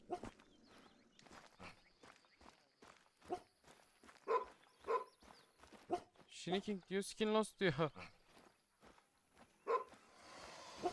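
Hunting dog in The Hunter: Call of the Wild gives several scattered barks and yelps amid footsteps, with someone talking throughout and a more intense burst of barking midway.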